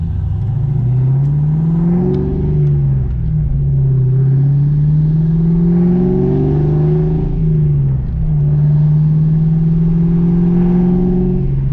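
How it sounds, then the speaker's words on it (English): A loud 1995 Mustang Cobra engine revs and accelerates under light throttle, its droning pitch rising and falling through several gear-like sweeps, heard from inside the car. "I'm barely pushing the gas, even though it sounds loud."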